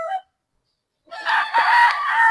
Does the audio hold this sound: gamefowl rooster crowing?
yes